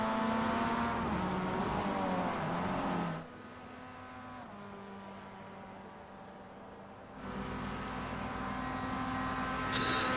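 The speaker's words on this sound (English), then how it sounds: "Hearing a car on the pit lane, that's Boomer Tech hitting the pit lane" Race car in the iRacing sim during a ChampCar 4.5-hour endurance race at Laguna Seca, engine droning steadily then dropping to a quieter hum as it enters the pit lane, before rising again near the end.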